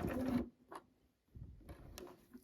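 A domestic sewing machine stitching a Sweety vest gives a short burst, then falls silent, then whirs again in a second brief run, close and fairly quiet, with small clicks between the runs.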